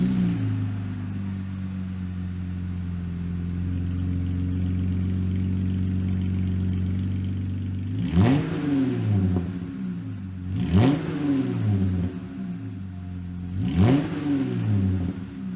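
A 2018-2020 Jeep JL Wrangler with an MBRP catback exhaust idles with a steady deep rumble, then revs three times in sharp rising and falling bursts, close and loud.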